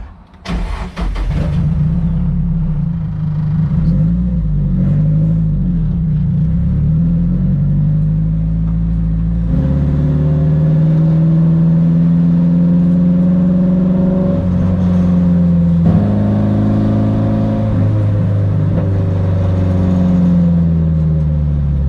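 A Nissan S14 cranks and fires up, then settles into a loud, steady idle with a deep rumble that shifts slightly in pitch as it runs, heard alone without talking.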